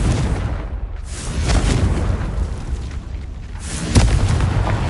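Confringo spell blasts in the video game Hogwarts Legacy, heavy booming explosions with rumbling low end, a fresh burst landing near the end.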